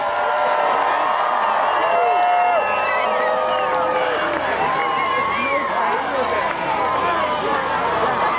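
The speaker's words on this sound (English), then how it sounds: "Please give yourselves a big round of applause" An audience at a Rogers Hometown Hockey outdoor event in Williams Lake, British Columbia claps and cheers in a steady, loud wash with scattered whoops, while an amplified host voice talks over it.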